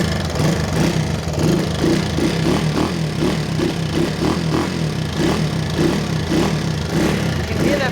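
A small dirt bike motorcycle engine runs steadily close by, a loud continuous buzzing drone with a faint pulsing throb, heard on its own from a lineup including a Honda XR75, Suzuki RM80X, Yamaha YZ80J and Honda CR80R.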